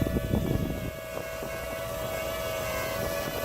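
A DJI Ryze Tello drone flying in gusty wind, its steady high-pitched propeller whine droning continuously over rumbling wind buffeting on the microphone, strongest at the start.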